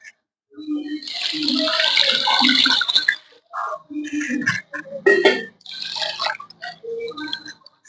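A pickle ingredient, soaked in water for seven days until its green colour faded, is washed by hand in water for a khar pickle, giving close, loud bursts of splashing and sloshing with short pauses between handfuls.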